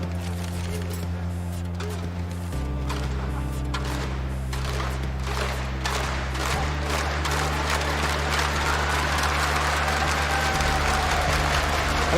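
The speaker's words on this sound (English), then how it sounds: "An intense crowd here in Espoo." A loud, steady roar from an intense esports crowd in Espoo at a Counter-Strike match between Astralis and Fnatic, a dense wash of cheering and clapping that holds for the whole stretch, with a low droning hum running beneath it.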